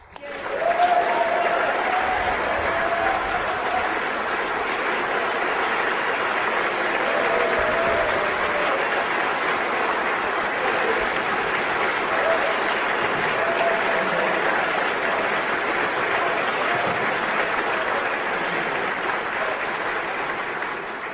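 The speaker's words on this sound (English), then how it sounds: "I don't get that applause in Washington, D.C." Sustained audience applause greeting Ron Paul as he is introduced at a rally, a steady dense wash of clapping that holds loud and even for about twenty seconds with no voices over it.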